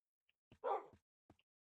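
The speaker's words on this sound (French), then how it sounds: "C'est un chien ça? Ça a aboyé." A Minecraft wolf barks a few times, close and fairly loud, a short burst of yips with a brief silence around it.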